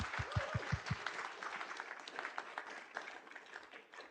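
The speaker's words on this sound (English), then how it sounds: "So, so please give him a huge, huge round of applause" Audience applause for a speaker at a tech talk, opening with a few loud close claps and then a steady wash of moderate, fairly distant clapping from a crowd, with no talking over it.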